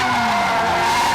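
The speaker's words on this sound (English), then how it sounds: "And we're giving thrill rides, drift rides in the car." A Ferrari drifts with a sustained, loud squeal of skidding tires over a short stretch, the pitch sliding slightly as it goes.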